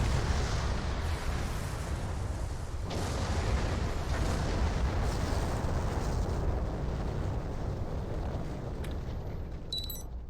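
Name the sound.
explosions in a video game space battle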